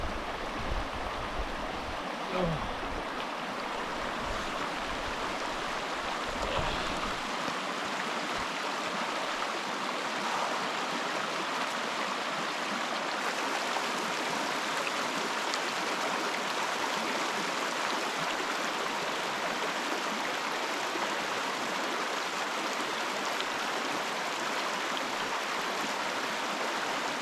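A river flowing steadily close by in grizzly country, a continuous broadband rush of water that stays loud and even throughout, with a brief voice near the start.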